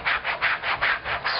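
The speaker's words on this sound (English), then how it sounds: "So just kind of remember where the dirt was and scrub there." A wet scrubber being worked over dirty leather, a close, even back-and-forth rubbing in about seven quick rhythmic strokes.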